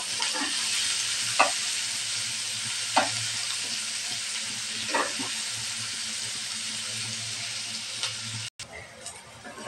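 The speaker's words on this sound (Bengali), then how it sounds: "এখন এই তেলের ভিতরে আমি দিয়ে দেব পেঁয়াজ কুচি আর মরিচ ফালি। পেঁয়াজটা আমি ভালোভাবে ভেজে নেব।" Chopped onion and sliced chili frying in oil, a steady broad sizzle with a low hum beneath and a few soft stirring clicks, the frying cutting off abruptly near the end.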